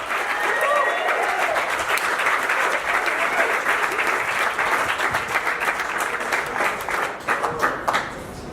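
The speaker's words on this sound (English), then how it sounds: "Start the clapping." A stand-up comedy audience breaks into loud, sustained applause and clapping, dense at first and then thinning into scattered claps toward the end, with a few voices and whoops mixed in.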